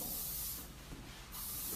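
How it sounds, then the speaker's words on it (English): A single gentle spray of hairspray during a short haircut, a soft, steady hiss lasting about a second, close and alone. "And with the hairspray, all you need to do is one gentle spray."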